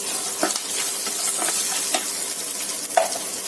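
Cashews frying in hot oil with tempering spices, stirred steadily in a pan, with a continuous close sizzle broken by a few sharp scraping strokes of the spoon, and no voices.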